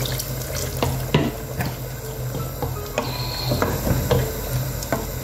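Tap water runs steadily into a pot while cooking spinach with catfish and eggplant, a continuous splashing rush with occasional clicks and knocks of utensils, close and fairly loud.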